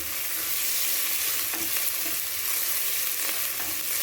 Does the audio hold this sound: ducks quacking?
no